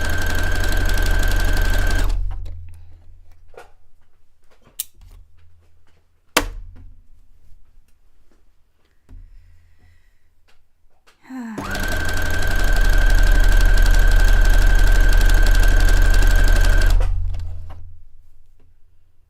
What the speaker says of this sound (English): So right now I am sewing the inseam.